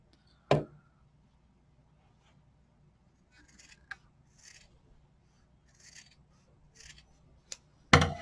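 Scissors snip at a hat as it is trimmed: a sharp close cut near the start, then scattered faint rustling and small clicks, and a final crisp snip at the end.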